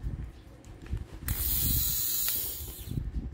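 A Panasonic electric shaver runs with its head fitted askew, giving a harsh, rattling mechanical whir that starts abruptly, holds steady for under two seconds, then cuts off amid small handling clicks.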